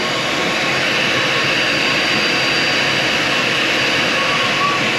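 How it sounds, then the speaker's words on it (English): A vacuum roars as a loud, steady broadband whoosh that holds constant from start to finish. "That's why I had him put the vacuum on."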